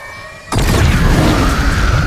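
A cannon fires in the sci-fi film Rebel Moon Part 2, a sudden loud blast that cuts in after a quiet lead-in and rolls on as a sustained, rumbling roar of explosion and debris.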